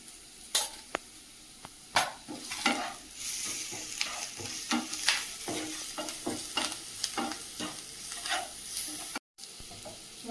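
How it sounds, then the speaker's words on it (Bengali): Ground spices — turmeric, coriander, cumin and red chilli powder — frying in a pan for a bele fish curry, with a steady close sizzle broken by repeated sharp scraping clicks of a spoon stirring against the pan. "মশলাটা ভালোভাবে ভেজে নিয়েছি।"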